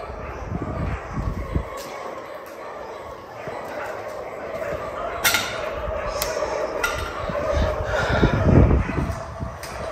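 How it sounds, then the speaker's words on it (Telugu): Several dogs bark and yip in short, irregular bursts at night in a supposedly haunted town, growing louder and more agitated toward the end, with faint voices underneath. "ఆ డోర్ కదలగానే ఒక్కసారిగా ఆ కుక్కలు అయితే అరిసాయి."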